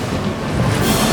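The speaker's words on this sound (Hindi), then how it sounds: "लहरें बहुत तेज है, हमें जल्दी कुछ करना होगा।" Strong ocean waves crash against a ship as a loud, continuous cartoon-style surge of rushing water and wind, building toward the end with no voices.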